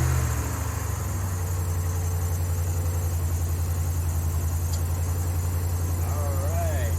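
Ram 1500 pickup with a 5.7 HEMI V8 and a K&N cold air intake idling just after startup, a steady low rumble with a faint whine, close and continuous.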